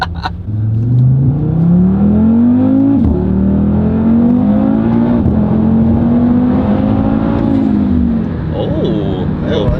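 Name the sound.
Audi RS3 with 034Motorsport carbon intake accelerating, blow-off valve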